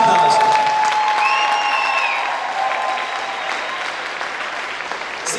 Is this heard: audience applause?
yes